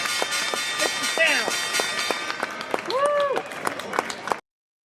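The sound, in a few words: clapping in a studio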